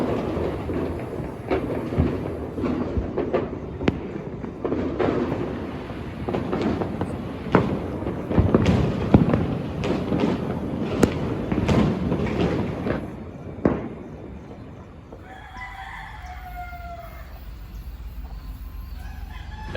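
A festive New Year fireworks display bursts in a long, irregular barrage of loud and distant booms and crackles, then fades into a quieter lull with a rooster crowing in the background.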